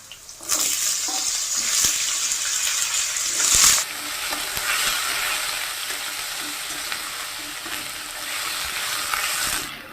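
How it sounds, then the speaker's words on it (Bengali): Potato pieces and drumstick pods fry in mustard oil with a little turmeric, giving a steady, loud sizzle with occasional stirring scrapes throughout, and no one speaks. "আলুগুলো ভাজা হয়ে গেছে, আমি সজনেটাও দিয়ে দিচ্ছি।"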